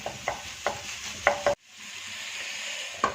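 Spiced potato samosa filling with garam masala being mashed and mixed in a pan over low heat: soft sizzling under intermittent scraping and tapping strokes, a sudden short break, then a quieter sizzle and one more knock.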